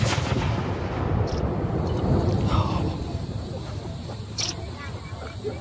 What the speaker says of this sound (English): that's the noise of all the guns you have going off here